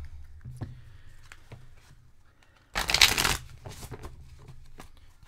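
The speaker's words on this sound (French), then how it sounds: "j'avais oublié de juste remettre mes cartes de l'autre côté" Tarot cards shuffled in a single brisk burst of riffling lasting under a second, close and fairly loud, set among quiet handling noises of a card reader's table.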